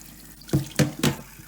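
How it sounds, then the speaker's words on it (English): Cold water from a sink tap splashing in three quick bursts, close and distinct, as if a filter is being rinsed under the stream. "So just cold fresh water from the tap."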